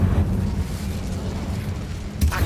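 An Incendio fire spell in the Hogwarts Legacy video game roars as a sustained, rumbling fiery whoosh, loud and steady, with a sharp burst near the end.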